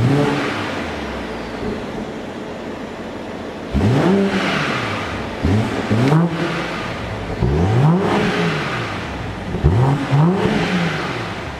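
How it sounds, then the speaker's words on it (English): BMW M440i 3-litre six-cylinder petrol engine with over 360 horsepower revving, starting from a low idle and then climbing and dropping in four sharp, close blips. "It features a 3-litre six-cylinder petrol engine with over 360 brake horsepower."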